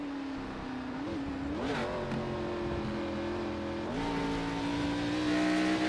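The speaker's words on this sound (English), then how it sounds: "Sounds like Massey is shifting mid-bus stop." A GT race car engine in a sim racing game at the Daytona road course drones steadily at high revs, with brief dips and rises as it shifts gears around the bus stop chicane, loud and continuous.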